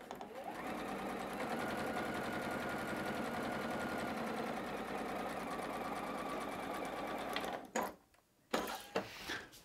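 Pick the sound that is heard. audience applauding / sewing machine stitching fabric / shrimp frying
sewing machine stitching fabric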